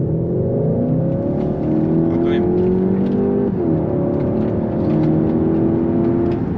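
A 245 hp car with a 1.4-litre engine accelerates hard at full throttle, its steady engine drone rising in pitch and holding loud throughout, with a brief dip mid-pull as if shifting, and no talk over it.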